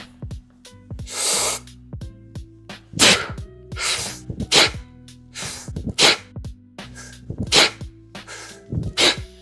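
A series of sharp, forceful exhales during kettlebell swings repeats in a steady rhythm, each a short burst of breath with clanking and thumping beneath, close to the microphone.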